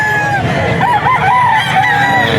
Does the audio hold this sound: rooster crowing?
yes